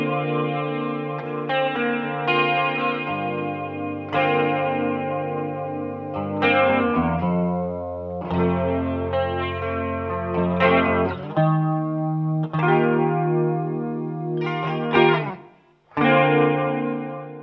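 Electric guitar played through a Dimension C chorus and Flint effects into an amp, ringing sustained chords with shimmering, wide modulation and trailing echo, loud and alone, changing chords every few seconds with a brief dip near the end.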